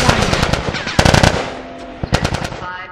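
Rapid automatic gunfire in The Last of Us, loud and close, arriving in several dense bursts with short gaps between them and no voices over it.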